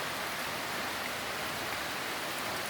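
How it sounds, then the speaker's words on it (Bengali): Heavy rain pours down outside as a dense, even, unbroken hiss, with no separate drops or voices standing out. "প্রচুর প্রচুর প্রচুর বৃষ্টি হচ্ছে এখানে।"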